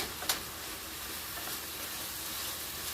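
Sausage frying in a pan for a Moroccan chicken tagine, a steady close sizzle and hiss filling the whole stretch, with a faint clink near the start.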